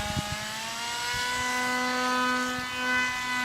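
Alpha Jet RC model jet plane cruising on its maiden flight, giving a continuous high whining turbine tone that swells and fades slightly as it passes, heard from the ground with some faint thumps nearby.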